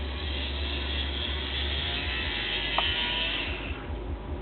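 A Roomba robot vacuum, running a little off balance, gives off a steady mechanical whirring and grinding hum with a faint rattle, sustained throughout at close range with no talking.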